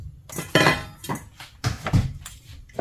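A lid goes onto a pan of half-cooked fried rice, making a few close metallic clanks and clatters against the cookware in an otherwise quiet kitchen.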